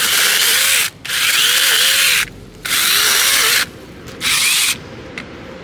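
A Sainlogic battery-powered 6-inch mini chainsaw cuts through a tree branch in three loud, close bursts of high motor whine, with short pauses between each cut as the chain winds down and restarts.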